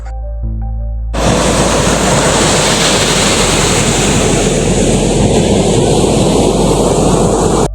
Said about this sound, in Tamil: அந்த கடல் கரையில நின்று அந்த கடலோட அலை சத்தத்தை கேட்டுட்டு